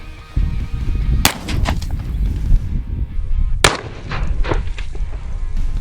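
A shotgun loaded with Federal Flight Control buckshot fires at a target 15 yards away, two sharp, loud blasts a couple of seconds apart over a rumbling outdoor background.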